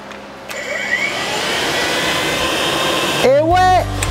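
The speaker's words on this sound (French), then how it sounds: "Là, on va savoir si le ventilo tourne." Radiator fan on a Yamaha R6 stunt motorcycle, a steady close whirring hum that runs unbroken for several seconds, with a brief rising tonal sweep near the end.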